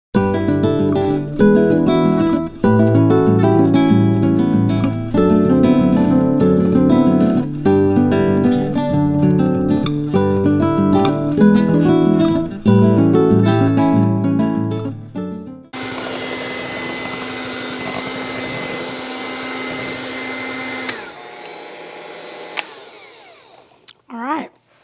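Electric hand mixer beating chocolate pound cake batter, a steady motor whir heard under loud background music for about fifteen seconds, then the mixer running alone briefly before switching off.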